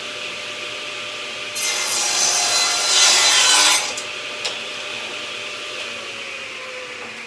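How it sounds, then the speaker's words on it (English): A table saw rips through scrap wood guided by a miter sled, a loud broadband whine rising for about two seconds amid steady motor hum, then spinning down into a quieter idling drone. "So we'll use the miter sled to get a square edge,"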